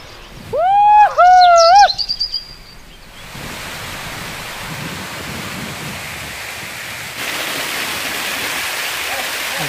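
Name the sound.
Tyrshi Falls waterfall in Meghalaya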